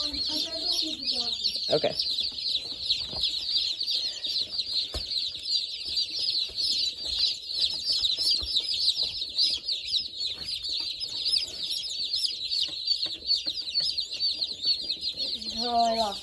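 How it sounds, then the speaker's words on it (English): Dense, continuous high-pitched peeping from a crowd of baby buff Orpington chicks, a steady chorus close by with brief soft talk and a little handling noise. "All right, we have 80 chickies, safe and sound"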